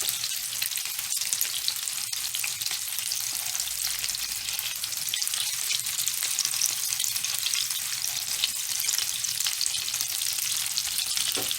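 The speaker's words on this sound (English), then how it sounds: "They're browning really nice. Remember, you just want to brown them on all sides." Homemade meatballs browning in a frying pan give a steady, close, dense sizzle that holds at an even level throughout, with no one talking.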